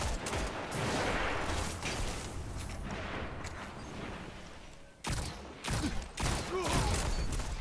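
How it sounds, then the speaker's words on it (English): Rapid machine gun fire in a first-person shooter video game, dense sustained bursts with brief gaps and sharper shots near the end, loud and close. "I think he has machine gun."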